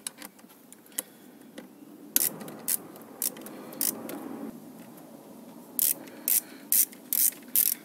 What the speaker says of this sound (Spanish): Con un dado de 10 milímetros vamos a aflojar los 4 tornillos que tiene.